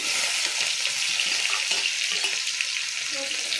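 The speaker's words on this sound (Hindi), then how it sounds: "तेल हो चुका गरम, मैं डाल देती हूँ इसमें जीरा और हरी मिर्च, प्याज।" Cumin, green chili and onion hit hot oil in a pan, giving a steady, bright sizzle with light stirring clicks throughout, close and continuous.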